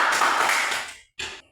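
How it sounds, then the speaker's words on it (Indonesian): Classroom applause from a group of students, a dense burst of clapping lasting about a second, then a short pause and a brief second flurry of claps nearby. "Kita berikan tepuk tangan dulu."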